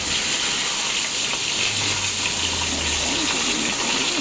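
Eggs fry in oil under a lid, producing a loud, unbroken steam-like hiss with a low hum underneath across the whole stretch.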